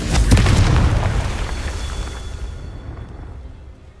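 Confringo fire spell blast in Hogwarts Legacy, a loud, booming explosion with a sharp crack up front and a rumbling tail that fades over several seconds.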